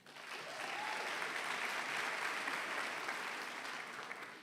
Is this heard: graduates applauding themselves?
yes